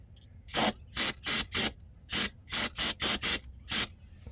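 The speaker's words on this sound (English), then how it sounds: "If you do have brake cleaner, you can hit it with some brake cleaner to get rid of all the debris" Brake cleaner sprayed in short bursts underneath a 2010 Kia Optima during a transmission fluid change, about ten sharp hissing spurts in quick irregular rhythm, close and fairly loud with quiet gaps between.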